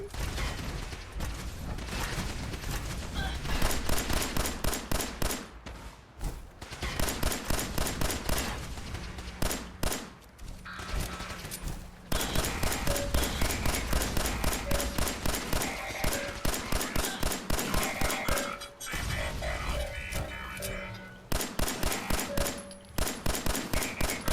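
Rapid automatic gunfire in Fallout 4, dense volleys of shots with mechanical clatter running almost continuously, broken by brief pauses, loud and close.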